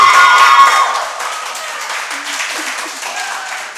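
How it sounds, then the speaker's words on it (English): A crowd applauds for Bishop Anstey High School East at a climate quiz event, loud at first and then thinning into steady scattered clapping that lasts a few seconds. "round of applause"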